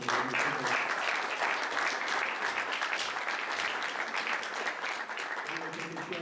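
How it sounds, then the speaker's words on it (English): An audience at a spring design challenge showcase gives the design teams sustained, thick applause, a continuous wash of many hands clapping at an even level from start to finish. "A round of applause again."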